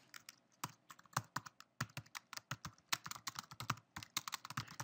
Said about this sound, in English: And I type in some notes.